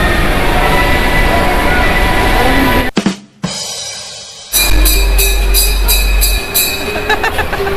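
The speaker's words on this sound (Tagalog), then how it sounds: "Alright, dito kami ngayon sa train sa Robinson." Passengers ride a train at Robinson, the carriage giving a loud continuous rumble and roar that drops out briefly midway, then returns with rattling and clatter.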